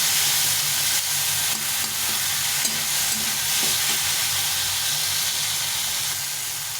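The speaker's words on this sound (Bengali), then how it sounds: "পেঁয়াজটা আগে ভেজে নেবো না এখন ভেজে নেবো একটু অল্প করে ভেজে নেবো আর টমেটোটা ভালো করে ভেজে নেব" Onion and tomato fry in a pan with a steady, loud sizzle and hiss, a close crackling texture that continues without pause and fades a little at the end.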